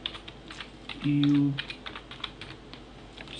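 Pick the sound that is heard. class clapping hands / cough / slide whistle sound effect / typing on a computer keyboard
typing on a computer keyboard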